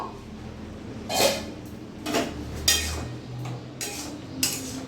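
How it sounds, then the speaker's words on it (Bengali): A lid comes off a pot of fig curry with a few scattered clatters and knocks of metal at close range, separated by quiet gaps and backed by faint low kitchen noise. "আমি এবার ঢাকাটা খুলে দেখবো"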